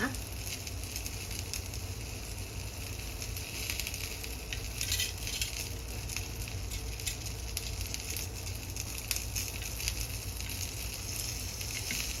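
Salted mackerel grilling over an open fire gives off a steady, close crackling sizzle with soft patter, continuous and fairly loud throughout, with no voices.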